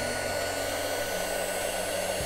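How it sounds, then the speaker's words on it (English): Heat gun blowing hot air steadily over a painting, a loud continuous whooshing roar with a faint low hum underneath, close to the microphone and without any talk. "Guys, when you're using a heat gun, you gotta be so careful because it gets really hot."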